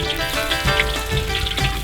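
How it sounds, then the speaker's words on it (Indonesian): Shallots, spring onion and tomato sauté in a clay pot over an open fire, giving a steady close crackle and sizzle with a few louder pops and scraping bursts. "Tumis bawang merah, daun bawang, dan tomat"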